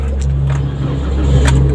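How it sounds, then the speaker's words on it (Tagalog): A car's engine running just after starting with the air conditioning still off, a steady low idle rumble close by with faint jingling of keys, no speech. "kung napansin nyo mga kaibigan, nag-start na po yung engine"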